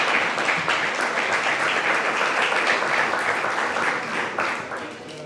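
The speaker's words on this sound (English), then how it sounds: "A big round of applause to her." Loud, dense applause from a packed room at a film festival award press conference, steady throughout and easing slightly toward the end.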